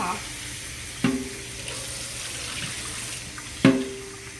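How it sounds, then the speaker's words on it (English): Tap water runs steadily into a sink as medium tail-on shrimp are rinsed, a soft continuous hiss broken by two sharp knocks of the container against the basin, with no talk. "I'm gonna take them out the container and wash them off."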